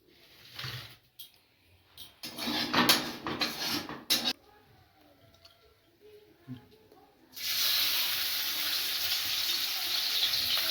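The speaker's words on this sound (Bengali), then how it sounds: "ফোড়ন দিয়ে কলাগুলো তুলে দিলাম, কলা আলু" Green banana, potato and eggplant dropped into hot oil with tempering spices give a steady, loud, even sizzle that takes over after a stretch of clattering utensils, with a voice talking in the background.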